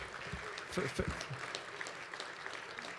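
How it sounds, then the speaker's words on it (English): Faint crowd applause with scattered voices mixed in, a steady patter of clapping at a distance. "how about a round of applause for the people who put this on?"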